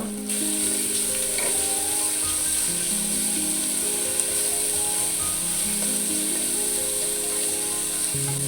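Chopped fenugreek leaves sizzle steadily in a pan for a methi pulao with coconut milk, a continuous close frying hiss with faint stirring scrapes and a low tonal hum underneath.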